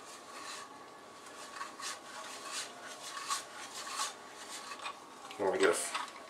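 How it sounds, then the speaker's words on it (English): Frozen cheese rasps against a metal grater in soft, repeated scraping strokes, faint and close, ending with a brief clatter of the grater against a surface. "we're grating our cheese."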